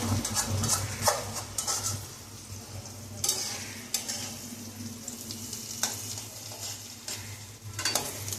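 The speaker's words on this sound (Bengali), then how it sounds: "পেঁয়াজগুলোকে একটু ভাজা ভাজা করা হচ্ছে।" Chopped onions fry in a pan with whole cumin, giving a steady sizzle broken by repeated scraping and clinks of a spatula stirring against the metal pan, close and fairly loud.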